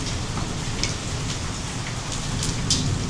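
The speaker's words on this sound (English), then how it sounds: "Those hailstones." Steady rain falls during a thunderstorm with hail, a dense hiss drumming on surfaces with a few brighter ticks of impacts, constant and fairly loud throughout, no voices.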